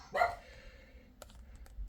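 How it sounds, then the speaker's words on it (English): A pet dog gives one sharp close bark indoors, followed by faint clicks and quiet room noise. "There's my dog, the Leo dog."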